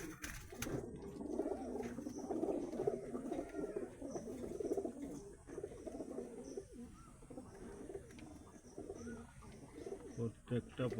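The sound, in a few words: pigeons cooing in a loft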